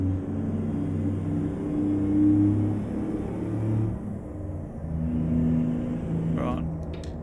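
A heavy truck engine in American Truck Simulator rumbling and revving with a deep, rising and falling drone, fairly loud and continuous, easing off near the end.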